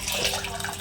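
Hot water poured into a pan of roasting vermicelli on a gas stove: a steady close splash and hiss running without break through the brief moment, with no talk over it.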